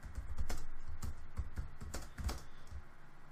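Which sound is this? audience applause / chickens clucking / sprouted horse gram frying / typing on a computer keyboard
typing on a computer keyboard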